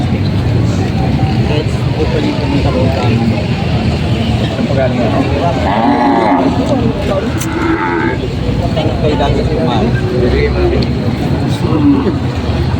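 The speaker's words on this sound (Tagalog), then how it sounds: "Lalaking kalabaw." A male carabao (water buffalo) at a busy livestock market in Lucena, Quezon, gives a drawn-out, fairly close moo around the middle, with other low bellows over a constant crowd hubbub and people talking throughout.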